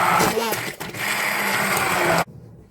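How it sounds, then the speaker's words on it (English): A countertop blender whirs loudly and steadily as it purees a green wild garlic soup, running for about two seconds before cutting off abruptly into near-silence. "So I'm just going to puree it now and see how it turns out."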